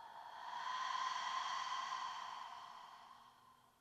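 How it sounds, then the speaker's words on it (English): Slow, drawn-out breath exhaled during a calm yoga breathing exercise, a soft airy hiss that swells over about a second and then gradually fades, close and alone with no talking. "breathing in through the nose, breathing out"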